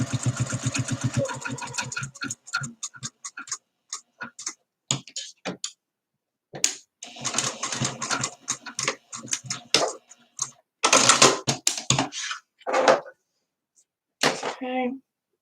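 A sewing machine runs in short, rapid bursts while top stitching a jacket lining, each run a fast mechanical patter, stopping and starting several times with brief pauses between.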